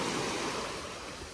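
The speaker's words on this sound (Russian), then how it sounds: "Сегодня небольшие волны" Small sea waves washing onto a calm beach at Karaburun near Izmir, a steady, full wash of surf and water noise, close and continuous with no voices.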